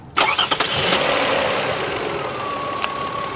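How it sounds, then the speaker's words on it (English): A car engine is started with a BOOKOO HP100S 3000-amp jump starter: a few quick cranking bursts, then the engine catches and settles into a steady, fairly loud idle. "And once connected, you can start the car."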